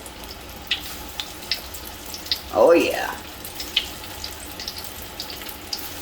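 Pieces of catfish drop into hot frying oil, giving a brief burst of sizzling spatter amid faint kitchen clatter and soft drips, with a short spoken remark nearby.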